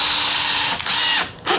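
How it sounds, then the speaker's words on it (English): Power drill driving screws into wooden framing, a loud high-pitched whine that stops briefly, restarts, then cuts out again in short bursts. "Drill, reverse, drill"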